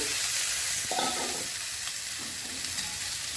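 Cauliflower florets stirred and sautéed in a hot pan with ground coriander and chili powder for an egg curry, a steady close sizzle with a brief scrape of stirring, no voices.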